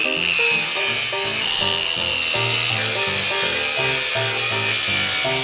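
A Ryobi grinder grinds down uneven wooden boards glued onto a kotatsu table, a loud continuous high whine with rhythmic rasping bursts as the tool is pushed back and forth, close and without talk.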